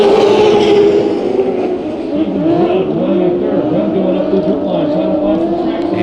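Race cars run together on the dirt oval at Perris Auto Speedway during a heat race, with a steady engine roar and rising, falling revs under a commentator's continuous talk.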